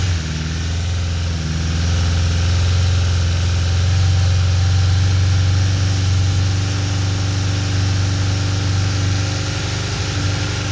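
A Suzuki Katana GSX750 motorcycle engine idles steadily during a carburetor sync, a loud, close, continuous low rumble with an even throb and no speech over it.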